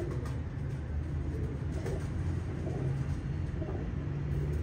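Pigeons coo softly in low, throaty murmurs over a steady rumbling background, with no talk.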